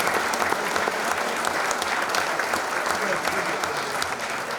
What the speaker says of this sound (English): So nice round of applause for those people